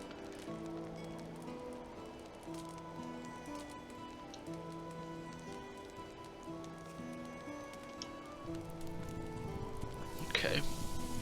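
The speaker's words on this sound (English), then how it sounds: "I think it's about to start raining." Steady rain patters in the medieval survival game Medieval Dynasty, a soft hiss beneath melodic game music and someone talking, swelling into a louder rush near the end.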